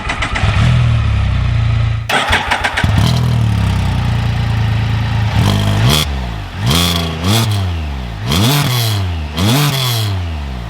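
A Can Am Spyder F3 Limited engine cranks briefly and starts, then settles into a loud, steady idle. Several sharp throttle blips rise and fall near the end. No one speaks.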